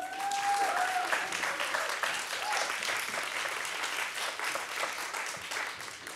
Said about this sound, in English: You can applaud at this point